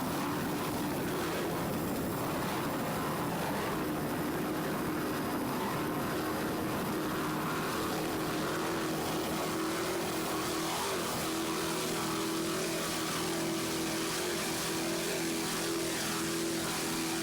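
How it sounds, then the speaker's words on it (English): Offshore racing powerboat with twin 800-horsepower inboard engines, a distant steady roaring drone heard continuously at moderate level, with a slight shift in pitch midway. "Just listen to those two 800 horsepower Zool racing inboards."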